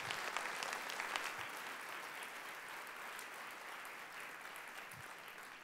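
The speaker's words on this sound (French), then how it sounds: "Oui, on peut l'applaudir certainement." Sustained audience applause from a crowd at a French-language presentation event on skills transfer, dense steady clapping filling the whole stretch at moderate distance with no voices over it.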